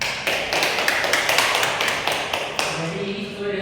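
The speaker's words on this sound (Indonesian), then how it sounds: "Baik, beri tepuk tangan untuk temannya." Classroom applause during a teaching practice session, a burst of many hands clapping together at close range that continues steadily for several seconds before tapering off.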